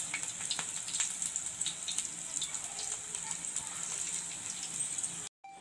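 Sambar vadai frying in hot oil, a steady close crackling sizzle with scattered pops running throughout, briefly cutting out near the end.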